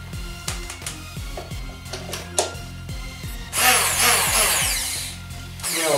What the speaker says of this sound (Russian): включаем наш блендер